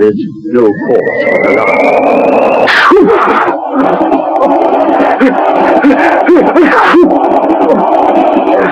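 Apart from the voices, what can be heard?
sneezing in a radio play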